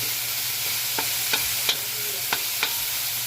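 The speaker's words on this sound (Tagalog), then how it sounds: "maluto itong giniling. Para hindi siya masunog. Lugay-lugayon ta." Ground meat frying in a pan for ginataang gulay, a steady close sizzle with several distinct scraping stirs of a utensil against the pan at irregular intervals, no talking.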